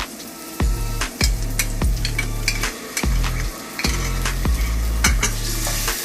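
Onions with ginger garlic paste and a pinch of salt frying in a pan, a continuous sizzle broken by a series of sharp, rhythmic scrapes and knocks of a spoon stirring, loud and close.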